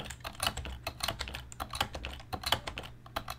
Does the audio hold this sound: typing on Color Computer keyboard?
yes